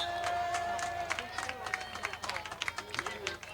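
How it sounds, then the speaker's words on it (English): Scattered clapping from home fans in the stands at a high school football game, Lebanon against Riverdale, sharp irregular claps over a steady crowd murmur and an announcer's voice. "Lebanon fans are clapping."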